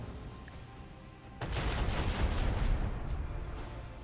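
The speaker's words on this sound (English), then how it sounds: "Initiate macro cannon barrage." Macro cannon barrage in the video game Rogue Trader: a dense, rumbling roar of rapid blasts that builds up suddenly and rolls on steadily.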